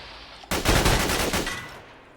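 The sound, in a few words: automatic cannon and gunfire in the video game Fallout 4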